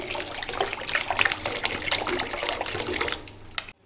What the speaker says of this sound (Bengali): এই যে আমি নতুন করে আবার জল দিয়ে দিলাম